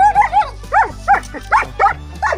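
A dog barks repeatedly in an excited, yelping run of about seven quick barks, close by in a garden setting, over a low steady background hum.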